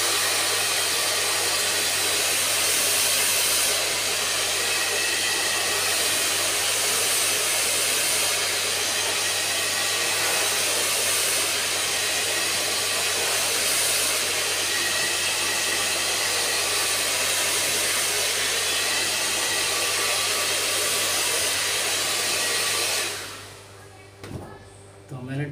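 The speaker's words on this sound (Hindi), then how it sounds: "ड्रायर कर दिया और ड्रायर करने के बाद जो लुक आने वाला है इसका," A salon hair dryer blowing hair with a round brush: a loud, steady whooshing hiss with a constant low motor hum. It runs unbroken for most of the time and then cuts off near the end.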